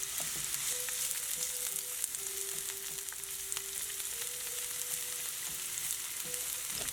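Onions and red peppers sauté in a hot pan, giving a steady, loud sizzle with no pauses and no talk.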